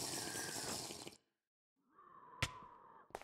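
Water sloshing and pouring in the RLCraft video game as a water bottle is filled or drunk, a liquid burst followed by a short gap, then a steady trickle punctuated by sharp knocks.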